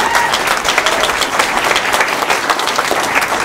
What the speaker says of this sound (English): I think a hearty round of applause for our candidates